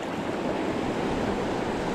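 Fast-flowing water of the Eucumbene River, a steady loud rushing wash close by that fills the whole stretch without pause, with a faint hint of wind and no talking.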